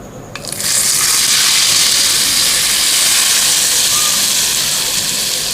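Hot tempering spices poured into yogurt for doi curry, a sudden loud burst of hissing sizzle that rises after a brief quiet start and stays strong and steady, close up.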